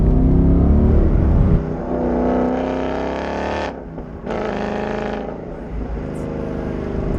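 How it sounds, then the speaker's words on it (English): Deep V8 rumble of a 505 bhp naturally aspirated manual Ford Mustang accelerating hard, then easing off and building again through gear changes, loud and close with no talking. "you put your foot down and that V8 rumble starts coming in"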